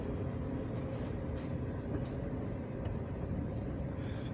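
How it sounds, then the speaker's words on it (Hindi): A car pulling away after the clutch is released during a driving lesson, a steady low engine and road rumble that holds evenly throughout. "और मेरी गाड़ी चल रही है"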